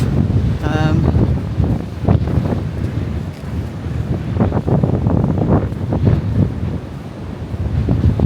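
Strong wind buffets the microphone over a constant roar of surf on the beach at Walcott, Norfolk, with scattered bursts of crashing water; the noise is loud and unbroken.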